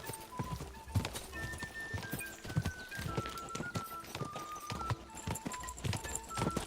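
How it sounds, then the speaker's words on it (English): Galloping horse hooves from the video game Kingdom Come: Deliverance 2, a quick steady clip-clop rhythm running the whole time alongside game music, with a brief whinny-like tone. "Need a faster horse."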